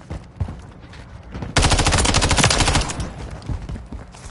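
Dense automatic gunfire from a first-person shooter match in Modern Warfare III, a loud sustained burst of rapid shots after scattered single reports, then tapering to intermittent distant shots.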